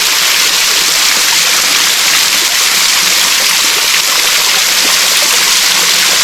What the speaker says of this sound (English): we got to a waterfall